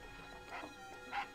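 A dog in a video game barks twice in short yips, moderately near, over a quiet steady background.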